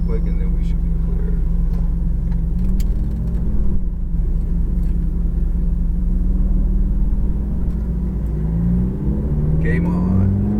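Ferrari F430 engine rumbling at low revs as the car pulls out onto a track, loud and steady from inside the cabin, rising slightly near the end, with a voice giving instructions over it.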